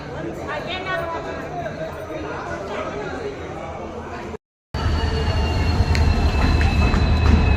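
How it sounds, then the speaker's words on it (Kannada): A passenger train pulls into a busy railway station on the Arsikere–Birur line, its steady rumble and squealing wheels filling the platform while waiting passengers chatter all around; a brief gap interrupts the noise before it resumes louder. "ಟ್ರೈನ್ ಬಂತು."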